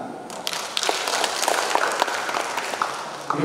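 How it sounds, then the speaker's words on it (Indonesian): An audience at an Indonesian right-to-know day awards ceremony claps together in a steady patter of applause, moderately distant, with a few sharper individual claps standing out. "Saya kira kita tepuk tangan."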